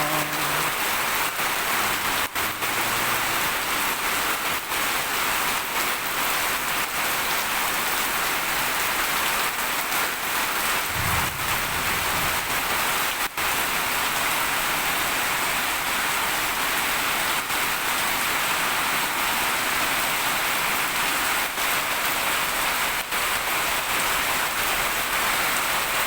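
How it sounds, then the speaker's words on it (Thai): Steady rain falling on a rainy day, a dense continuous hiss with scattered drops and soft low rumbles underneath, unbroken throughout with no voices. "ฝนตกมาอย่างนี้เราจะกลับบ้านได้ไหมน้อง"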